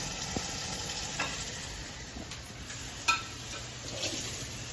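Jamaican-style chicken with vegetables sizzling in a pot, a low steady frying hiss broken by a few light stirring scrapes and one sharper knock of utensil on pot.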